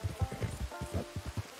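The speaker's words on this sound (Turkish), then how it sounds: "Yağmur nereden çıktı ya?" Steady patter of rain in Red Dead Redemption 2, with soft repeated low thumps like footsteps moving through it.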